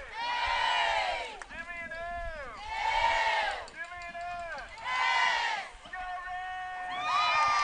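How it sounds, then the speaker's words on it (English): A home crowd at a high school softball quarterfinal in Owasso yells and cheers in repeated rising-and-falling bursts about every two seconds, loud and close, with a voice speaking over it. "You can hear our crowd in the background."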